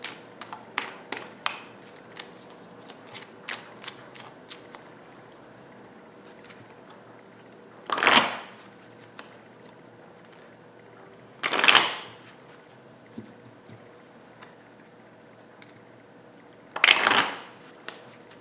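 Tarot cards are shuffled with soft, irregular taps and flicks, broken by three louder riffle bursts spaced several seconds apart, close by with no talking.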